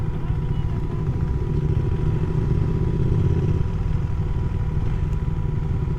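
A KTM 390 Duke single-cylinder motorcycle engine runs close by at a steady idle or low speed, a constant low rumble with light mechanical clatter that holds throughout, with no clear speech.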